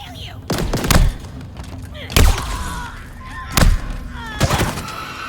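Bursts of Grunt gunfire in the video game Halo Infinite, four sharp, loud reports spaced about a second apart, each with a thudding low boom and a bright crackle, over a busy combat backdrop.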